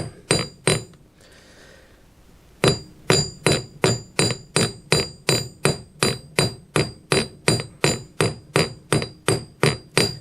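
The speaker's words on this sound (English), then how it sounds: "I am rotating the piece some, dropping the hammer in one place" A hammer strikes a metal bracelet being forged and bent, ringing sharp clinks in a steady, rapid rhythm, with a short pause early on before the regular blows resume and continue to the end.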